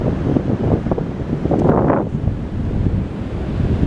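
Ocean waves and gusty wind buffet the microphone at a beach, with a continuous loud roar and a brief swell of surf, no talk.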